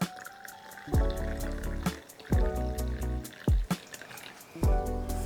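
Warm water splashes into a container for tea in several short pours, each with a gurgling, ringing fill, separated by brief pauses and drips.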